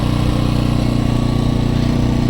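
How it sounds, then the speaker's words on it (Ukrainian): An AL-KO 2000i inverter petrol generator runs with no load, a steady, even engine hum with a low throbbing rhythm, close and moderately loud, no voices. "Ви тільки послухайте, наскільки техесенько працює без навантаження."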